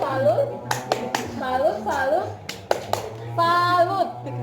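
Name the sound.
group doing a "tepuk salut" clapping chant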